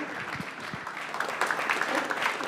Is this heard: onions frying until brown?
no